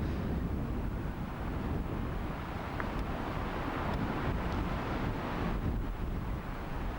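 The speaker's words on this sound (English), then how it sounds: "Look at this wind just taking that ball on." Strong wind gusting across an open golf course during a professional tour event, a steady rough roar with microphone buffeting that persists throughout, with no voices.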